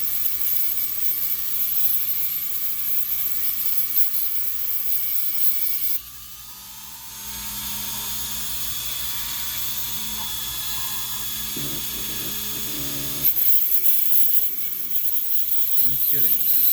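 A Wizzy wheel bit grinds on a Mark IV VW Jetta shifter assembly, a loud high-pitched rotary whir that drops in pitch and load for several seconds before surging back up, with brief clicks and scrapes in between.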